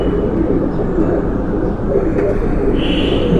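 Several pigeons, including a female Ferozpuri pigeon, coo in a low, continuous rumble close by, over a dense, loud background of flock noise.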